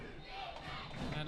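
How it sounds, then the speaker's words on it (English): A rowdy high school varsity football crowd for De La Salle roars faintly and steadily from the stands, a continuous wash of cheering and shouting. "This De La Salle crowd is rowdy"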